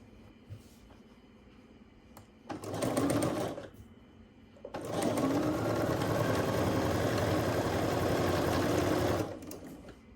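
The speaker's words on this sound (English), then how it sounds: "So let's sew these two together." A sewing machine stitches quilt pieces together in two steady runs, a short burst and then a longer loud mechanical whir, close up with quiet pauses between.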